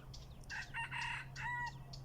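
Wild junglefowl crowing in a forest, a clear, fairly close crow in several rising and falling segments over a steady low background hum.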